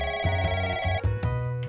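A telephone rings with a repeating electronic tone, sounding in short regular pulses, loud and close, with no talking over it.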